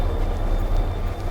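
A slow train near Gyeongju, South Korea, rumbles along in a low, continuous steady roar with faint track noise, heard from inside or close by, with no voices.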